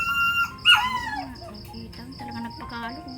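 A dog gives a short, bright yelp or whimper near the start, followed by a faint, high whine that continues under low voices and household background sounds.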